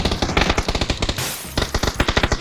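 Rapid automatic gunfire in the PUBG battle-royale video game, loud and close, in two dense bursts of quick shots separated by a brief pause.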